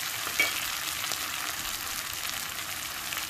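Potatoes frying over a low flame in a pan, producing a steady close sizzle with a faint crackle, no voices.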